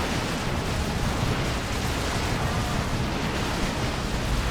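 Blue flame roaring steadily from a Purgation squad's incinerators in Dawn of War 2, a dense continuous rushing blast that stays loud and unbroken throughout, with no voices.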